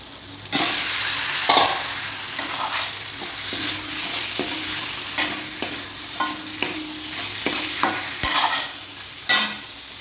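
Chicken pieces fry in a pan over a gas flame, with a continuous close sizzle broken by repeated stirring scrapes and clacks of a spatula at irregular intervals.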